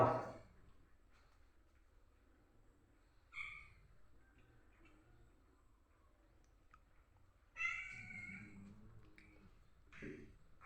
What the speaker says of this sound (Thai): บ้านหลังนี้เลี้ยงแมว